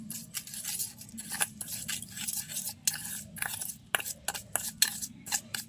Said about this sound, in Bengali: এবার তিনটে উপকরণ একসাথে আমি ভালো করে মিশিয়ে নেব।